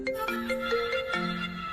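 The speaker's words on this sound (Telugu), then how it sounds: "కాల్ వస్తుంది లిఫ్ట్ చేయి." An incoming phone call plays a ringtone as a short electronic melody of bright tones, fairly faint and steady, with no talking over it.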